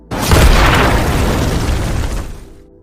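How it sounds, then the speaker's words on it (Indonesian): A trap detonates near an approaching robot in a Vietnam-set film, one loud booming blast that bursts suddenly, roars with heavy low rumble and debris for about two seconds, then fades away. "Saat sang robot mendekat, jebakan itu pun ia ledakan."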